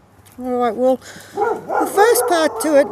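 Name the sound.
dog barking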